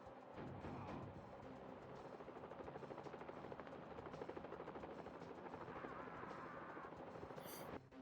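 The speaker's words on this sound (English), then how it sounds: "This helicopter's gonna be the death of me" Helicopter in a Mission: Impossible video game, its rotor chopping in a loud continuous drone with rapid pulsing, joined by bursts of gunfire and mechanical noise near the end.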